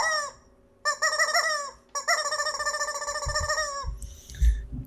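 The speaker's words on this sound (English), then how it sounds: "And it doesn't make as much noise as CJ's chicken" A toy chicken gives off squeaky, clucking squawks in three bursts, loud and close, with rustling handling noise toward the end.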